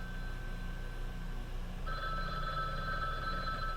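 An old landline phone in the video game Love Bites rings with a steady electronic trill that swells midway. It sits at a moderate distance over a constant low background hum, with no voices.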